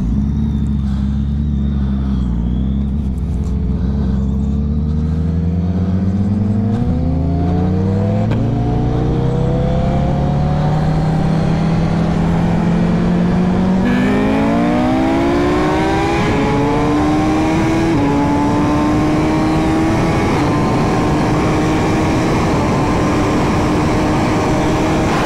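A Ducati Superleggera V4 and a built-motor Busa motorcycle accelerate hard in a second-gear roll race from 60 mph, a loud, sustained engine roar climbing steadily in pitch for about 25 seconds with no talking.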